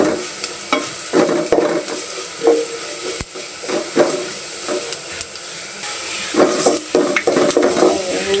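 Lentil dal frying in a pan with spices stirred in: continuous sizzle and hiss broken by repeated scraping, clattering stirring strokes of a utensil against the pot, all close and fairly loud.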